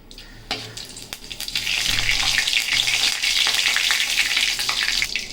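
Cumin seeds and five-spice tempering hit hot oil for a rui fish dish, and a bright, crackling sizzle surges up after a few clicks and then stays loud and steady, close to the pan.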